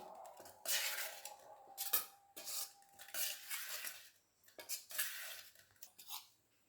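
A spoon scrapes and clinks against a pot while jaggery syrup with coconut and cardamom is stirred, in several bursts of metallic scraping separated by short pauses, close and fairly quiet.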